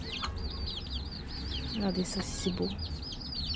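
A rooster clucks close by in a backyard where young chicks are kept. There are a few short low clucks, while repeated high chick chirps carry on around it and someone speaks over the sounds.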